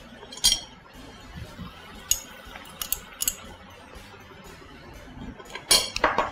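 A casserole pot being handled and set down in a kitchen, with scattered sharp metallic clinks and knocks, a cluster near the start and another near the end, over a quiet background.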